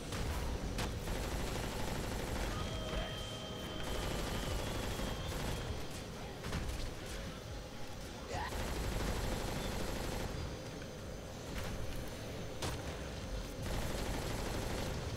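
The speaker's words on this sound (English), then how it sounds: "Oh yeah, I like this gun. This gun's good." Gunfire from the video game Crackdown 2 rattles in dense, continuous bursts of automatic fire, loud and busy with layered explosions and shots throughout.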